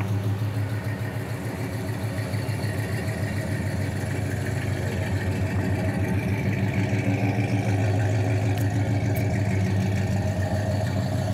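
A rare 1977 Pontiac Can Am's V8 runs steadily at close range, a loud, rumbling idle with a rhythmic low pulse that holds for the whole stretch, with no talking over it.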